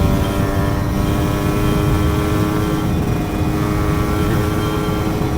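A Yamaha F1ZR two-stroke motorcycle engine, bored out with oversize pistons, drones steadily and loudly at constant revs, a buzzing mechanical roar with no pauses throughout.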